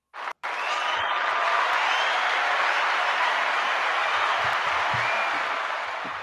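A studio crowd applauds as a guest economist enters a talk show, a dense, steady wash of clapping that starts abruptly and holds at full strength before easing slightly at the end.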